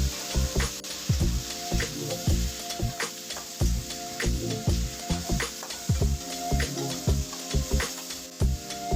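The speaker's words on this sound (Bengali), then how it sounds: "এবার আমি ওলকপিগুলো ছেড়ে দিচ্ছি। ওলকপি এবং আলু ভালোভাবে নেড়ে নিচ্ছি।" Kohlrabi and potato pieces sizzle and fry in a pan while being stirred, with steady crackling and repeated scraping strokes of a spoon throughout, close and fairly loud with no talking.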